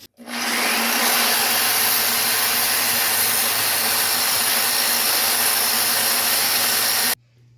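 A grout saw cleans leftover grout from the edges of tiles while replacing cracked tile, giving a loud, steady, close grinding buzz that runs unbroken for about seven seconds before cutting off abruptly.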